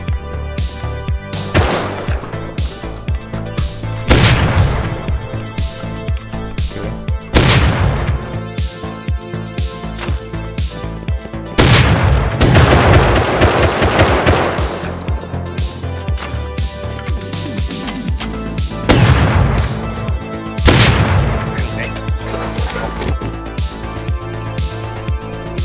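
Gunfire in the survival game Rust, dense and loud throughout, with heavy booming shots recurring every few seconds over a steady mix of game sound, and no clear talk.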